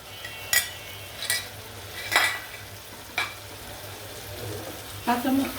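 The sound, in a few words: frying blended onion and green chili paste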